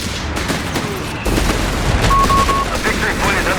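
Artillery barrage and gunfire in the video game Company of Heroes 3, a dense layered rumble of blasts and shots that swells louder partway through, with game voice lines mixed in.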